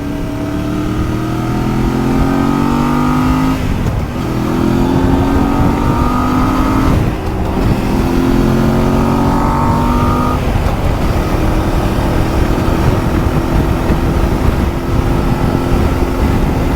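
A Voge DS800X adventure motorcycle accelerates hard on an open road, its engine pitch climbing through several gears with brief dips at each shift, loud and steady under constant wind rush.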